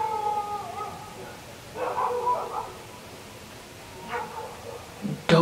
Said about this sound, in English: Dogs are going off their heads.